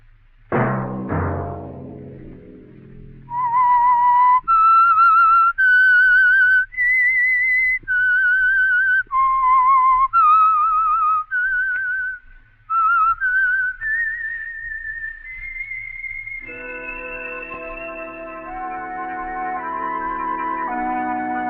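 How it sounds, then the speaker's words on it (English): A clear, melodic whistled theme of the radio mystery show The Whistler plays alone, a short rising-and-falling tune of sustained notes, followed by soft orchestral music rising underneath. "Let that whistle be your signal for the Signal Oil program"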